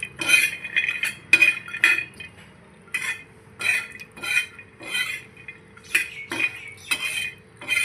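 Cashews and almonds roast in a pan for laddu while a utensil stirs them, producing repeated sharp metallic scrapes and clinks in an irregular rhythm, close up and clear, with no voices.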